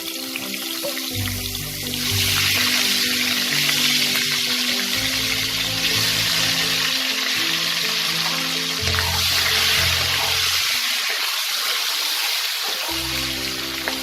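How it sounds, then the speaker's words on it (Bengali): Potatoes frying in hot mustard oil with a pinch of turmeric, a loud steady sizzle and crackle that swells and thins in waves, with no voices. "আলুটাকে আমি লাল করে ভেজে নেব।"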